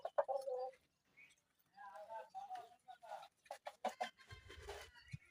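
Roosters kept for sale at a rural Bangladeshi farm near a railway station market give repeated bursts of clucking and squawking with short gaps between calls, fairly close and loud, with no speech over them.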